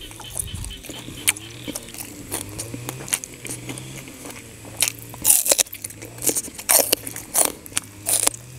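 Close crunchy bites and chewing of crispy pork belly with sweet shrimp, a few sharp crackling crunches scattered over 8 seconds, louder bursts toward the end, with no talking.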